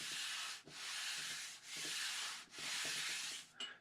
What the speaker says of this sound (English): just listen the sound of the one I just made when I'm rubbing it